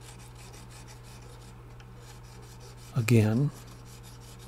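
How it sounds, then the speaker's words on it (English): A micro file scrubs rhythmically across a broken guitar neck being prepared for refinishing, giving steady close rasping strokes; a short spoken word cuts in briefly partway through. "I'll use my micro file"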